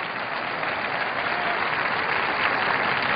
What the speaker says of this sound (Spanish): Aplauda a Cristo y alabe a Cristo y adore a Cristo.